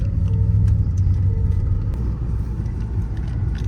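A stock Hyundai Genesis 5.0 V8 being warmed up while driving, giving a steady, close, loud low rumble with a mild rise and fall and no talking over it.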